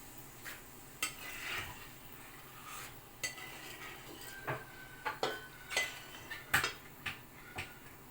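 Roasted peanuts stirred into puffed-rice chivda in a pan: a spoon makes irregular scraping and ticking knocks against the metal, with light rustling of the dry mix, quiet and close without speech.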